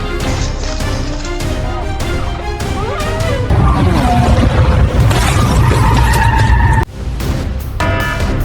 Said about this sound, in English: these are the most insane car accidents caught on camera that will leave you speechless